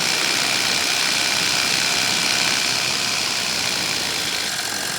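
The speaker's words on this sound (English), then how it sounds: "Richened up my engine." A powered paraglider engine, recently richened, runs at a steady, loud drone with a buzzing, full-range roar and no pauses for the whole stretch.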